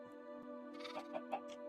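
A few short sheep bleats from a video game, spaced close together near the end, heard over a steady tonal game music bed.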